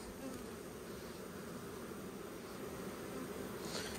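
Honeybees buzz steadily around an open hive during a frame inspection, a dense, even drone close by that stays unbroken throughout, with no voices.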